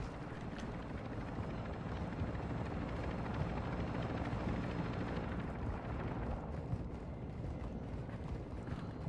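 A helicopter in the video game Warzone 2 gives a dense, steady rotor and engine roar that fills the whole stretch at an even level, with no voices over it.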